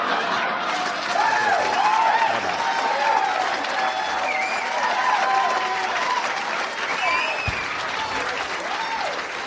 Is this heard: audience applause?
yes